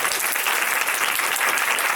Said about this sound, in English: A huge round of applause for Karyn.